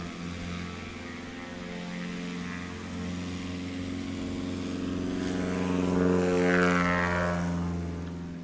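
Small propeller airplane taking off at a STOL competition on a grass airpark, a steady droning engine and propeller buzz that swells louder as it climbs and passes, heard from nearby without talk.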